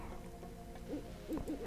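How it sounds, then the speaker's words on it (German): An owl in the video game Anvil of Dawn gives a few soft, low hoots near the end, faint and distant over a dull ambient hum. "Und ich höre eine Eule."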